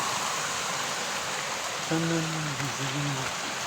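Floodwater rushes across a main road in a Kullu-Manali village, making a continuous, even roar of flowing water that fills the whole stretch. A voice speaks briefly partway through.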